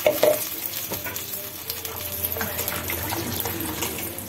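Water poured into a frying pan of rice being stirred, giving a rushing splash and sizzle that settles into a steady bubbling hiss, close and alone.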